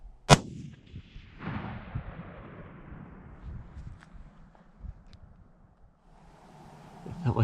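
A single loud rifle shot cracks during a bison hunt in the Book Cliffs, followed by a rolling echo that fades over several seconds, with shuffling and rustling nearby afterward.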